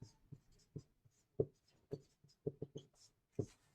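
Chalk or marker writing on a classroom board during a maths lecture, a series of short distinct taps and strokes spaced irregularly, fairly close and clear with no talk over them.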